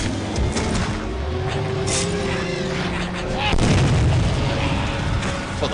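Big explosions in the video game Clive Barker's Undying boom out in a dense run of loud, rumbling blasts that swell again near the end, with a player's voice talking over the battle noise.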